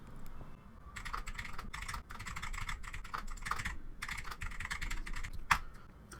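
Fast typing on a computer keyboard while writing in Google Docs, close and clear, with bursts of rapid key clicks separated by short pauses and a single sharper keystroke near the end.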